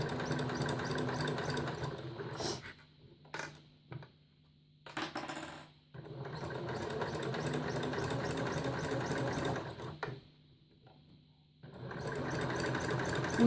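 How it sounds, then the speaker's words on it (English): A sewing machine stitches fabric in several steady whirring runs separated by brief pauses, including short back-and-forth bursts for back stitches, close and fairly loud with no talking. "So we're joining up our two lines, then we're doing a couple of back stitches"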